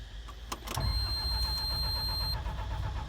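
JCB JS220 excavator engine cranking without catching, a low rough grinding starter whirr after a couple of clicks, steady and close for several seconds before cutting off.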